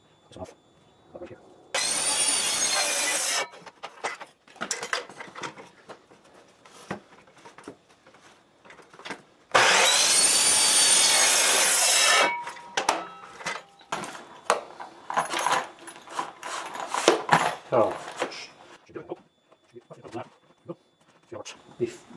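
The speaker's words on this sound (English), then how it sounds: "So I'm going to cut off some material here." Material for a tractor PTO safety shield being cut on a bench, two loud steady bursts of a power saw separated by scattered knocks and rubbing, with a person talking between cuts.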